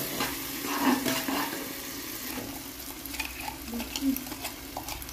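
Ginger, garlic and coriander paste is stirred into frying onion and tomato for pavta bhaat, giving a continuous close sizzle with scraping stir strokes throughout.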